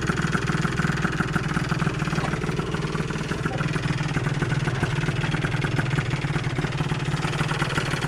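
A Zip SP scooter with a Malossi 172 kit idles steadily nearby, its two-stroke engine putting out an even, slightly rattling thrum with no voices over it.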